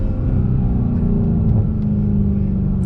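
Turbocharged engine of a Mercedes-AMG C63S coupe tuned to 530 wheel horsepower, droning in a low, steady rumble while driving on the road, loud and continuous with no talk over it.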